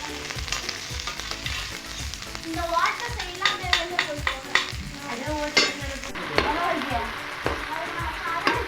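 Steady sizzling and frying of carrots and beans in a pan for fried rice, with repeated stirring and scraping, while voices chatter faintly in the background.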